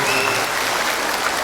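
Audience applause at the Chin Cultural Festival in Singapore, a steady, dense wash of many hands clapping filling the hall throughout, loud and continuous.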